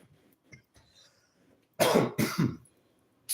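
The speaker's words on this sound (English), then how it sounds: "coughing up a storm there" A burst of two or three harsh, loud coughs close to a radio studio microphone, after a few faint rustles and breaths.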